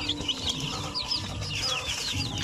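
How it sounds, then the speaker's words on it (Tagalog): Chicks and chickens on a small poultry farm cluck and peep quietly, a soft, continuous chatter of high chirps over low clucking. "So actually marami ang ating sisiw, no?"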